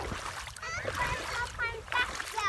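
Splashing in water with a voice and other talk over it, the splatter coming in short, irregular bursts close by.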